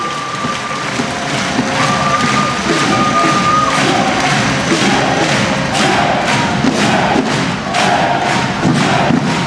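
A packed arena crowd at a women's top-flight volleyball playoff quarterfinal, Schweriner SC against VfB Suhl, roars and cheers without pause, with rhythmic thumps and chanting running through the din.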